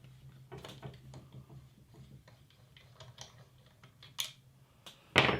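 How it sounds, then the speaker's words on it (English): A 3mm Allen wrench works the bolt out of a Ruger 10/22 rifle stock, giving small scattered metallic clicks and taps close up, ending in a louder rattling knock, with no one talking. "You need a 3mm Allen wrench. Pull this one bolt out."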